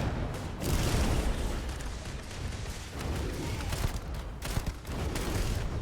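Dense gunfire and explosions from a firefight in Starfield, shotgun blasts mixed into a continuous loud roar of booms and bursts with no clear gaps.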